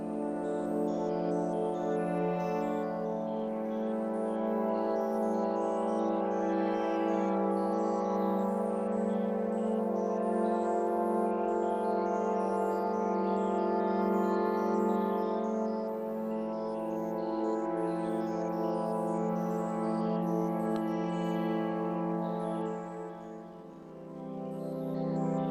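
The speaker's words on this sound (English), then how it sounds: "Slow it way the heck down. And we're going to make this one an actual sine wave." A very slow sine-wave synth tone from the Vital wavetable synthesizer, a steady, smooth sustained drone with soft harmonics that holds almost unchanged for the whole stretch, alone and without talk.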